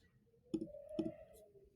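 Two quiet, crisp computer mouse clicks sound about half a second apart against a faint room background, followed by a softer third tap.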